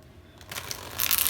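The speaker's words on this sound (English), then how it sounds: "one more shuffle" A quick riffle of playing cards, soft at first and building to a brief crisp flutter, close by.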